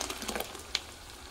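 Sauce for a honey-bean porridge poured into a hot pan, with a short burst of soft sizzling and bubbling and a small clink partway through.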